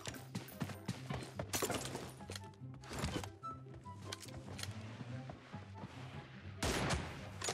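Gunfire in a PUBG Mobile team deathmatch, several sharp shots in an irregular series, some close and loud and others quieter, scattered among softer game sounds.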